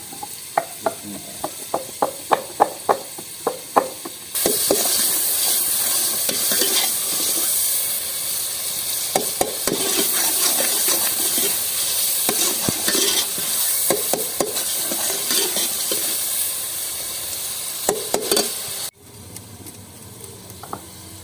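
Crushed garlic and ginger tipped into a hot oil tempering for a village-style chicken and pea biryani: a run of sharp pounding knocks first, then a loud, steady, hissing sizzle that fills the rest, with no talking.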